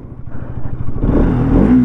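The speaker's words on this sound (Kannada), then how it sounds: "ಇಂಜಿನ ಸೌಂಡು ಈ ಥರ ಕೇಳಿಸುತ್ತೆ" A Bajaj Pulsar RS200 motorcycle engine, 2024 model, starts with a low idling putter, then revs up into a louder, rising roar close by.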